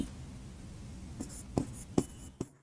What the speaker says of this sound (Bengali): তাহলে আমরা এখন একটা বাক্য লিখবো।